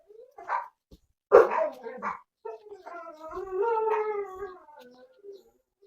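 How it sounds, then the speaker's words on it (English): A dog howls in a long, wavering tone after a few short yips and barks, moderately close, with no other sounds around it. "Hear my dog singing the song of her people."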